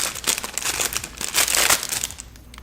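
A plastic packaging bag holding an LED party bracelet is crinkled and torn open up close, producing a loud, continuous rustling crackle that fades at the end.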